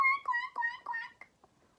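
A voice imitates baby ducklings with a string of short, high, nasal quacks in quick succession, close and clear, trailing off into fainter peeps.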